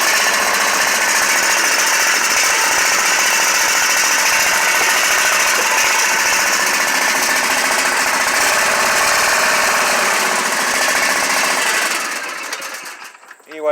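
A repaired FR730V small engine on a mower runs at low idle, a loud, steady, close mechanical drone that holds evenly without surging, then tapers off at the end.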